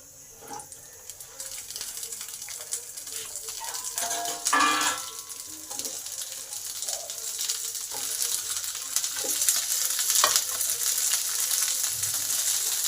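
Green beans hitting hot oil with black cumin seeds and green chilli in a pan, a broad steady sizzle that swells and grows louder as the beans go in, with a few clanks of a utensil against the pan.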